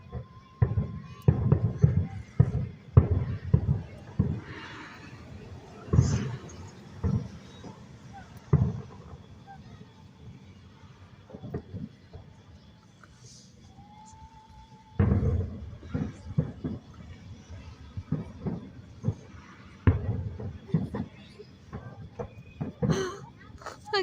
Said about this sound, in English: Look at those pretty fireworks.